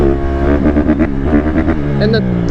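Honda CRF150RB dirt bike revving under throttle while riding a wheelie, a close, loud buzzing engine note rising and falling in quick surges, with a voice talking over it.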